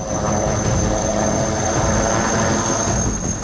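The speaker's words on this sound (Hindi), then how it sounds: "पहली बार हम आपको दिखा रहे हैं अपने परवाज के साथ उड़ान भरता हुआ लाइट कॉम्बैट हेलीकॉप्टर" A HAL Light Combat Helicopter flies with an Indian Air Force crew, its rotor and engine making a loud, steady, unbroken roar close by, with no voices.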